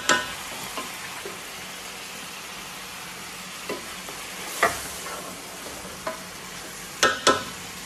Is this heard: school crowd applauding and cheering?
no